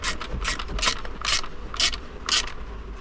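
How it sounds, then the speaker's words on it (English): A ratchet clicks in short, regular bursts while driving screws into the plastic housing of a Ford electronic climate control unit, each stroke a close, crisp ratcheting rattle, repeated about six times. "Well, I guess I need a ratchet for that one."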